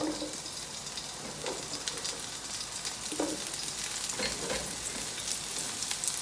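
Mushrooms frying in a Dutch oven, a close, even crackling sizzle with occasional soft knocks and stirring sounds, no talk.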